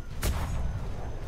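A single sharp gunshot rings out in the video game ATLAS, followed by a short rumbling tail.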